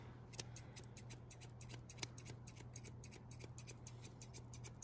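Big blending shears trim a doodle dog's long coat with rapid, close, steady snipping and metallic clicks over a low steady hum.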